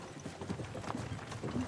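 Large draft horses walking in the game Kingdom Come Deliverance 2, quiet, even hoof clops repeating at a walking pace in the background, with no talking.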